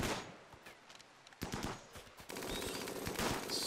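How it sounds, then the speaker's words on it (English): Rapid gunfire from a squad shooting at a mega scarab in the colony-building game Rimworld, bursts of clipped shots that grow denser and steadier toward the end, moderately quiet in the mix. "And you fire at the mega scarab."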